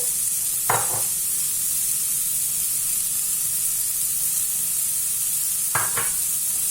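Onions cooking with a little salt in a covered pan give off a steady, close sizzling hiss, with two brief clattering bursts of a lid or utensil near the start and end.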